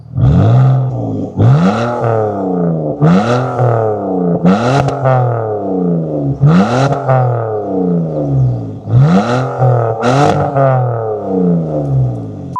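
A loud BMW E46 with a straight-piped exhaust revs repeatedly in sharp bursts, each blip rising and dropping in pitch, with a raw, rumbling exhaust tone close by.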